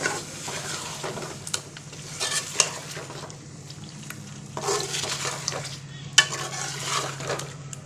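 Chicken kadai masala is stirred in a pan, with repeated bursts of scraping and sizzling spaced a second or two apart over a low, steady hum, and no voices.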